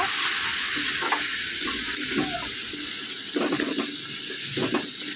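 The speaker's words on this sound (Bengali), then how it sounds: "এবার মশলাটা ভালো করে কষিয়ে নেব" A prepared spice paste fries with onions in a pan as a steady loud sizzle, with repeated stirring scrapes and spoon knocks against the pan, close and continuous with no talking.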